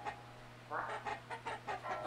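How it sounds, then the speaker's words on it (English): Chicken clucking in the video game LISA the Painful, a run of short rhythmic clucks after a brief pause, fairly faint over a low steady hum. "Oh, there's a chicken up there."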